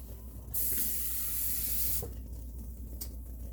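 A steady rush of water pouring into a pan starts abruptly, flows evenly for about a second and a half, then cuts off, leaving quiet room noise.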